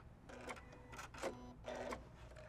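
Janome Horizon Memory Craft 9410QC automatic thread cutter snipping thread, a few short whirring mechanical bursts from the sewing machine, close and quiet, no talk.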